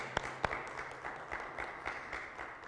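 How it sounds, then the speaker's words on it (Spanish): Church congregation clapping in praise during a Spanish-language service, a sparse and fairly quiet run of handclaps with a few sharper claps near the start. "¿Por qué no le das fuerte el aplauso al Señor?"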